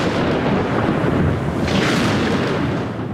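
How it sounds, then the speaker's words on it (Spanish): A heavy thunderstorm rumbles with a loud, sustained roll of thunder that swells and slowly fades, with no voices over it. "estalla una fuerte tormenta"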